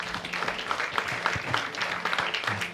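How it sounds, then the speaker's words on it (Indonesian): Applause from a congregation at a church Christmas celebration, with continuous clapping that has sharp individual claps standing out and faint background voices mixed in. "Tepuk tangan boleh."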